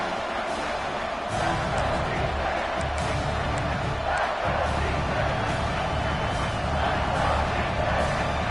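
A large football stadium crowd at a North Carolina versus Oregon game roars continuously, a loud, sustained wall of cheering with swelling surges throughout.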